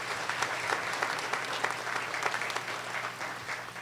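Sustained applause fills the hall at the Kirtland Community College 2018 commencement ceremony, a dense, even patter of many hands clapping steadily without a break.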